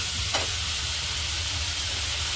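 Chopped onion and tomatoes frying in oil give a dense, steady sizzle close by, with a low rumble beneath and only a faint clink near the start.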